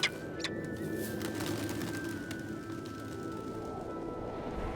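Snow pigeons cooing high on the slopes of Mount Everest near a high-altitude camp, soft repeated coos over a steady windy background with a faint sustained tone, moderately distant.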